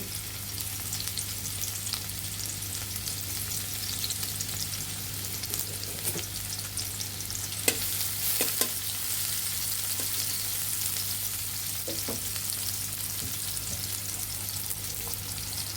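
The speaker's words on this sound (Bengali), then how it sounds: "আমরা এক চা চামচ পরিমাণের মতো সাদা তেল দিয়ে দিয়েছি আমরা পেঁয়াজ কুচি দিয়ে দিব" Chopped onion sizzles steadily in a pan with about a teaspoon of white oil while okra in mustard sauce is being cooked. The frying is continuous and close, broken by occasional stirring clinks and taps.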